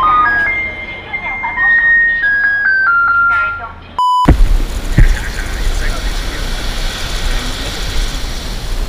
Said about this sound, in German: Das Müllauto.